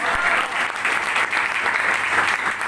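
Audience applause for the host at a company business event, dense clapping from many people, loud and continuous throughout.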